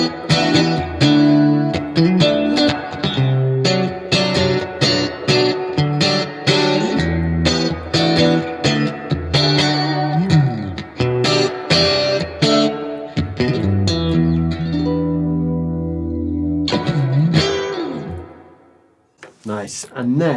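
Electric guitar plays an 80s-style clean tone through a Blackstar amp, chorus-tinged chords and single notes ringing with reverb in a lively phrase that drops to a brief pause near the end before picking up again.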